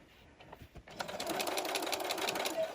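A sewing machine stitches around a plush houndstooth fabric Valentine's heart, starting after a brief pause and running steadily at close range with a fast, even mechanical whir.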